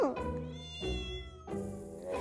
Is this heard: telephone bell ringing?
no